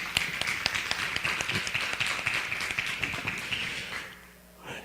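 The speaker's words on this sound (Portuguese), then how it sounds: "aos quais eu peço uma salva de palmas aqui pela" Hands clap in a fairly rhythmic round of applause from a conference audience at a panel session on Brazilian foreign policy and civil society. The sound is moderately faint, then quickly dies away near the end.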